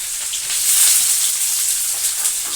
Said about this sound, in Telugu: ఇది ఆనియన్ వేసాను ముందు ఇది కొంచెం కొంచెం ఫ్రై చేసుకుంటే సరిపోతుంది